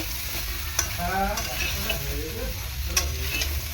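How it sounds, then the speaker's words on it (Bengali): Mixed vegetables for shukto sizzle in hot oil while a spatula stirs and scrapes the pan now and then, a steady close frying hiss throughout. "সবজিটাকে তেলের উপর ভালো করে এরকম নাড়াচাড়া করে কষিয়ে নেব।"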